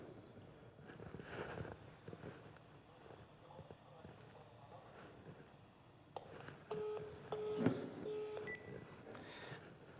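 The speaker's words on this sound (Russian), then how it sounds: "у нас телефонный звонок." Telephone call tones coming in on a live Russian radio talk show, a few beeping dial-type tones near the end following murmured background sound.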